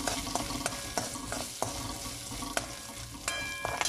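Chopped ginger and green chili sauté in a pan for a raw banana podimas, a steady close sizzle broken by sharp scraping clicks of a stirring spoon at irregular intervals, with no voices.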